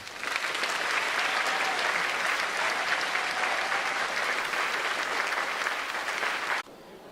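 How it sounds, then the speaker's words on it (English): A crowd applauds students at a high school academic award ceremony, steady dense clapping lasting several seconds at full strength before cutting off abruptly. "Let's give these guys a round of applause."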